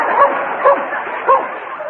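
Dog barking as a radio comedy sound effect from a 1945 broadcast, several quick yipping barks close up in a short burst, loud and filling the moment alone.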